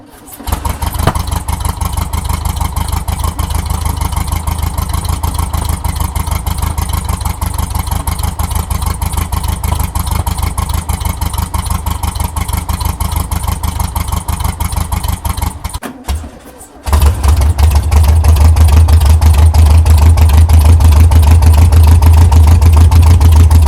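A homemade trike's engine runs loud and raw without its muffler inserts, a harsh continuous rapid exhaust rattle that cuts out briefly near sixteen seconds, then returns with a deeper, heavier throb.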